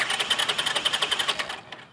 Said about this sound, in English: Now to crank the bike, it sounds like this.